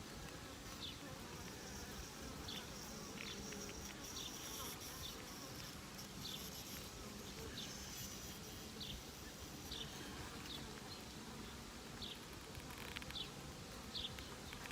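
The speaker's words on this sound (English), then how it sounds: "that particular bee is cranky today" Bees buzz around a mating nuc hive, a constant dense hum of many insects with occasional faint higher whines from individual bees passing close.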